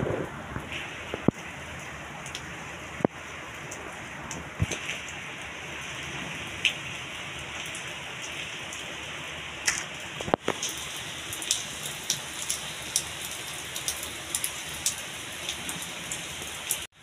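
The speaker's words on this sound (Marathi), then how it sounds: "पाऊस भयानक आहे" Heavy rain falling steadily outside, a dense continuous hiss with scattered sharper drops striking a surface, with no voices.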